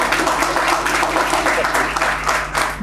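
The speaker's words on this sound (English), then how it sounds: "Please give a round of applause for that." Audience applause at an academy talk on UPSC exam preparation, a continuous crowd of clapping hands filling the room at a steady, fairly loud level throughout, with a low hum underneath.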